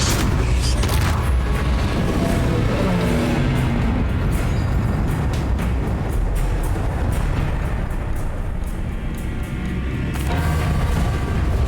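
Explosive Bombarda blasting spell in Hogwarts Legacy, a loud booming burst followed by sustained heavy rumbling and crackling debris that fills the whole stretch, with a brief voice at the start.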